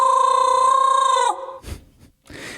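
A short tuned vocal sample from a free Elektron Digitakt sample pack, a bright harmonic tone lasting just over a second, followed by a couple of breathy noisy bursts.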